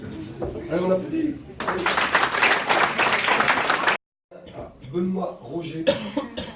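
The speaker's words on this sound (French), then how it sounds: "Allez, on applaudit." Between stretches of talk, a short burst of audience applause breaks out at an awards ceremony for driving prizes, dense and fairly close, then cuts off abruptly before speech resumes amid a cough.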